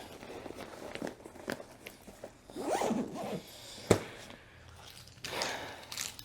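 A zipper closing the main compartment of a cruise carry-on bag, with several quick close zips and a firm tug near the end, amid soft rustling of packed items.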